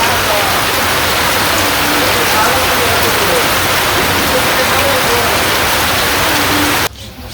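Heavy rain pouring steadily on a village, a dense, loud, unbroken hiss of drops on surfaces that drops off abruptly near the end.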